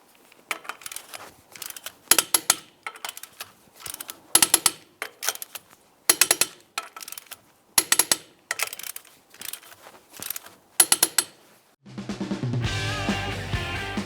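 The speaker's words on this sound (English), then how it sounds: "With the wheel safely on the ground, torque these in a crisscross manner." Torque wrench clicking repeatedly while lug nuts on a 2010–2013 Ford Transit Connect wheel are tightened in a crisscross pattern, sharp ratcheting bursts in quick clusters with pauses between, followed by a brief steady mechanical whir near the end.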